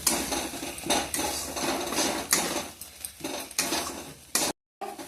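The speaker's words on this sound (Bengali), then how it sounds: "মশলাটা একদম লো ফ্লেমে ভাজতে হবে।" Spice paste for paneer butter masala frying on a low flame, stirred with repeated scraping and clattering of a spoon against the pan over a soft sizzle, with a brief silent gap near the end.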